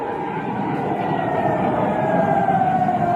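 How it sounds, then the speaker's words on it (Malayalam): An air raid siren sounds during a blackout in Jaisalmer, a sustained wailing tone that drifts slowly in pitch and holds steady and fairly loud over a rumbling outdoor background. "ജയ്സാൽമീറിൽ ബ്ലാക്ക് ഔട്ടാണ്, എയർ സൈറൺ മുഴങ്ങിയിരിക്കുകയാണ്."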